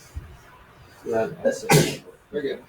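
A single sharp sneeze bursts out in a classroom amid short spoken phrases, a loud close snap among the talking.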